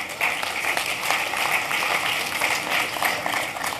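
Audience clapping at a medical talk with Dr. Mack Roach III, a steady patter of applause lasting a few seconds at moderate distance, with no talk over it.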